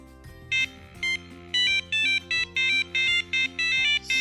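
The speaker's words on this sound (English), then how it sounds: "The Nokia monotone type 7 ring." A Nokia 3310 phone plays its monotone type 7 ringtone, a retro single-tone melody of short repeated beeps in an even rhythm, loud and close with no talking.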